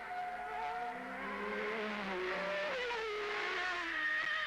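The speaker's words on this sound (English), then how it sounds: "And here we are at Mexico City with Philippe Alliot leading for Peugeot." Peugeot sports car engine during a 1991 World Sports Car Championship race at Mexico City, a steady mid-distance drone with shifting pitch and a brief change near the end, heard alone without talk.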